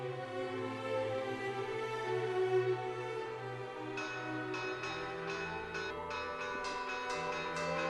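Church bells ring at dawn in the Saint-Jérôme district south of a Peruvian city, a dense, sustained peal of overlapping tones with repeated strikes growing brighter partway through, moderately distant, without any voices.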